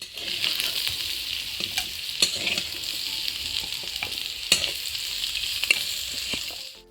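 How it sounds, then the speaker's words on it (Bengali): Cumin seeds tempering in hot oil in a wok give a continuous close sizzle, dotted with crackling pops and stirring clicks throughout. "এইবার কড়াতে জিরে ফোড়ন দিয়ে"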